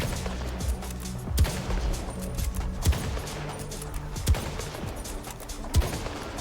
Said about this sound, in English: So, Ghoul Magnum, hip fire.